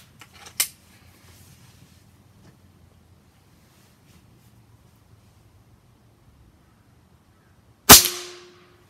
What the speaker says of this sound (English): I'm going to take 2 shots with this and a couple shots with the other ones, so you can hear firsthand what they sound like.